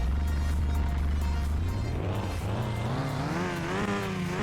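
A Toyota engine in Car Mechanic Simulator 2021 runs loud and steady, then revs upward in rising, wavering sweeps as the throttle climbs, close and alone without talk.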